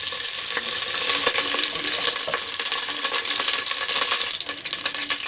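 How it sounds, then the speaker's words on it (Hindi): Oil hitting a hot pan and frying for Pakistani sarson ka saag, a continuous bright sizzle with scattered clinks and stirring scrapes, fairly loud and close, fading slightly at the end. "सबसे पहले हम ऑयल डालेंगे"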